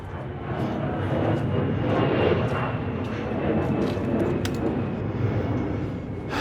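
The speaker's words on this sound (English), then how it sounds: "Fudging airplane going overhead." A fixed-wing airplane passes overhead near an airport takeoff path, a steady loud engine roar that holds for several seconds with no talking.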